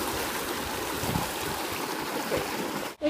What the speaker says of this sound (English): we have this nice waterfall, and we're in the middle of it.